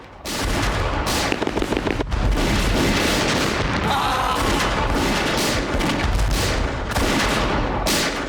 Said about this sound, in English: With his men dying around him, Lieutenant Dease took over the machine gun.